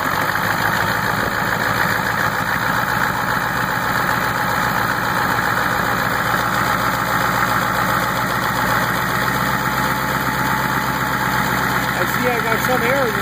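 A diesel engine idling steadily during a Liqui Moly Diesel Purge fuel-system flush with the fuel filter removed, a loud close, continuous rumble with knocking undertones and slight RPM variation, and someone talking over it.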